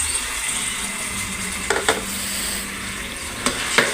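Boiled mung beans tipped into a pan of sautéed onion and stirred, with a steady frying sizzle beneath a few sharp scraping clacks of a utensil against the pan.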